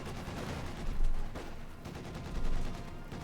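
Dense, continuous rattling gunfire from heavy machine guns and infantry in a Company of Heroes 2 match, Wehrmacht against Soviets, swelling into two louder bursts amid overlapping battle noise.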